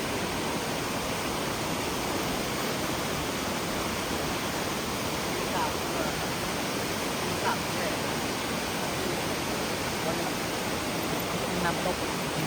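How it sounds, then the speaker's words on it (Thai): A forest waterfall roars in a steady, broad wash of falling water, constant and fairly loud with no breaks. "น้ำตก"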